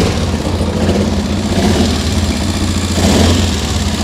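Car engine running with wires fitted in place of the alternator belt, a loud, steady, rough idle with slight rises in revs, heard close up and without talk.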